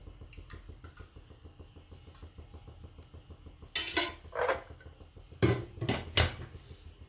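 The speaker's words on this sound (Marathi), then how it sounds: "आता आपण गॅस पेटवला कढई ठेवलेली तेल टाकून घेऊ" A wok set down on a gas stove at home while cooking dill greens, heard as two separate bursts of sharp metallic clanking and scraping over a quiet, low background hum, with no talk.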